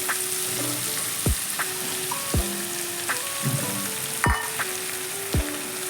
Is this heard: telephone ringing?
no